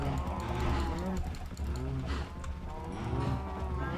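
Cows in a modded Minecraft-style video game moo repeatedly in long, low overlapping calls, with a mechanical ratcheting clatter faintly underneath.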